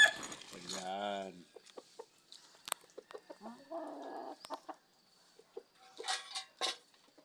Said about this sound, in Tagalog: ito naman yung mga chicken na manok mga Lods. Pakainin natin.